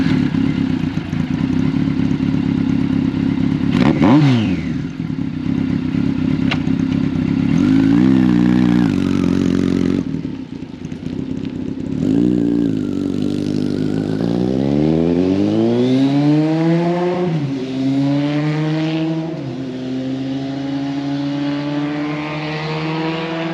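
A 1981 Kawasaki KZ1000M (CSR1000) motorcycle is ridden, its engine loud and close, rising through revs and gear changes with sweeping pitch climbs and drops, over rushing wind noise.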